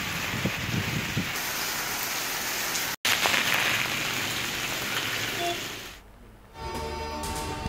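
Heavy rain falling in Islamabad and Rawalpindi, a dense steady hiss of downpour that cuts out briefly, continues, then fades into a softer wash near the end, with no voices.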